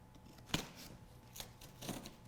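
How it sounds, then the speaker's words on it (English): Tape on a road bike's cardboard shipping box is cut open, giving a sharp snip followed by two quieter slicing rasps, close by with no talking. "the first thing I'll do is go ahead and cut the tape here"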